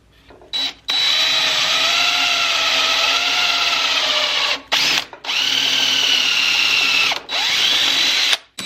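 A power drill whirs in three long bursts with brief pauses between, pre-drilling pilot holes to be countersunk, a steady high-pitched motor whine close by, no talking.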